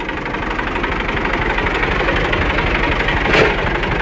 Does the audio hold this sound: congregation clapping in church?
no